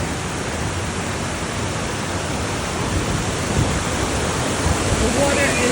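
Brown canyon water pours down a waterfall near Simonstown, South Africa, producing a broad, constant rushing roar with no distinct breaks, steady and moderately loud for the whole stretch.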